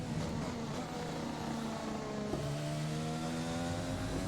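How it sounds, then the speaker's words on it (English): Racing-game F1 car engine from F1 2020 at Bahrain, a steady loud drone whose pitch drops sharply partway through as power comes off, then holds a lower tone with a rough turbo runoff character. "I don't like the turbo runoff noise in this car. When we come off power, it's a bit. It sounds like it's broken."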